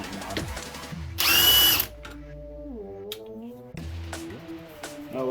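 A Ryobi One+ HP impact wrench whirs loudly for about half a second, spinning freely close by, with tonal motor hums and faint clatter before and after.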